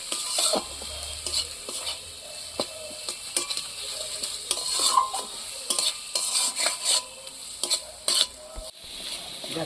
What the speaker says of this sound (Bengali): এটাও আমি একটু ভেজে নিচ্ছি